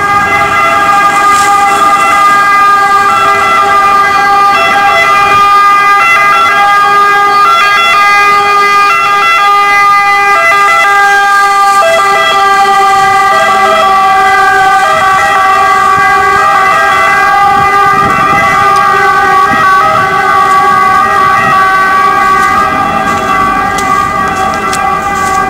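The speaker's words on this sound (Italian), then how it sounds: "Ovviamente c'è una sirena," An emergency vehicle siren wails steadily and loudly along a street in Genoa during a snowfall, its tones sustained throughout with faint traffic underneath.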